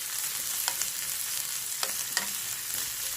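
Onions softening in a hot pan with oil for an okra (bhindi) curry give a steady, close frying sizzle with a few brief stirring scrapes, and no voices.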